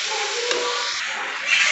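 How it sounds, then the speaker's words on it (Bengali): Young jackfruit being stirred and cooked in a pan, with a continuous bright sizzle and hiss of frying broken by a few scraping strokes of the spoon, close and steady, no talking. "কাঁঠালটা দিয়ে আমি একটু নাড়াচাড়া করে আর কিছুক্ষণ ধরে সেদ্ধ করে নেব"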